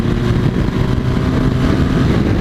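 A BMW R 1200 GS motorcycle accelerating hard in third gear in dyno mode, a loud, steady, close engine roar mixed with heavy wind rush, with no voices.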